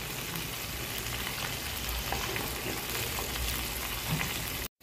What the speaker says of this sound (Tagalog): Ang ating aim ay delicious crispy fried pork chop.